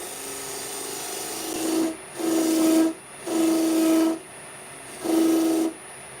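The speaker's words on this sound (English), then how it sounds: "skew chisel, slam a little dovetail on it again" Skew chisel cutting green hawthorn wood spinning on a lathe, four loud close bursts of humming, tonal shaving noise, each lasting under a second, separated by brief pauses over a steady machine whine.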